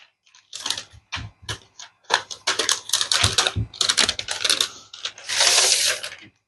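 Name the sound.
unwrapping a MacBook from its paper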